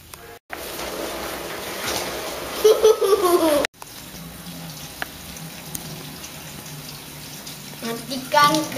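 Water pouring steadily from a tap in a continuous hiss and splash, fairly loud and close, with a brief cut partway through and faint voices or babble mixed in.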